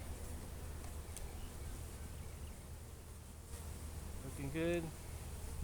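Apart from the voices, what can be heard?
honey bees buzzing around a hive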